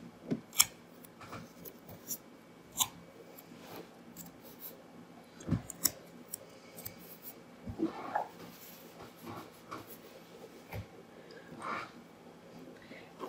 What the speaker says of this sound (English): I'm going to place this paper over the plan, line it up with the T-square, and tape it down.